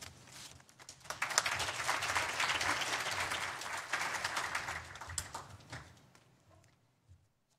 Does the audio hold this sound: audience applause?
yes